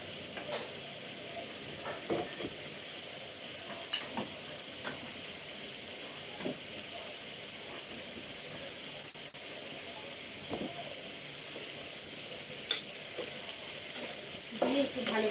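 Vegetables and cumin fry steadily in a pan, giving a constant moderate sizzle with occasional spatula scrapes and clinks spread through.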